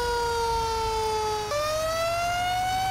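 A Q siren on a Chicago fire engine in GTA 5 wails loudly and continuously, its steady tone dropping abruptly halfway through before climbing again, over a low engine rumble.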